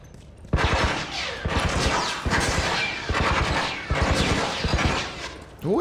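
Gunfire in The Last of Us Remastered comes in close, loud bursts of rapid shots, several volleys separated by short pauses, with a sharp crack near the end and no talk.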